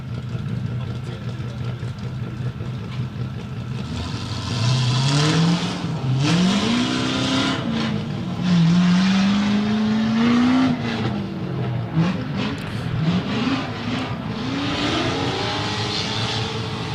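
An LS-powered Nissan S13 drift car on a drift track revs hard and wails in rising and falling sweeps, loud and sustained, under a commentator's talk and crowd ambience.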